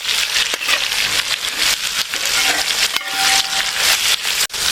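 Five sliced onions dropped into hot oil in a pan for a Kerala beef bone curry, giving a steady, dense sizzle and crackle that runs close and unbroken throughout, with no talking.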